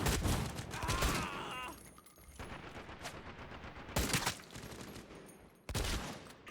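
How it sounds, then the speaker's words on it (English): A shotgun firing slugs in the online shooter Caliber, three heavy booming shots spaced a couple of seconds apart, loud and close among game ambience. "It's pretty much firing slugs, so it's pretty much like a hip fire sniper."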